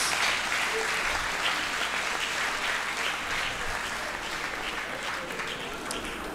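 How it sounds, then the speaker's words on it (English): Applause from a university audience after an inaugural lecture gives a sustained, even wash of clapping that carries through the whole stretch and eases slightly toward the end. "Let's give him a round of applause."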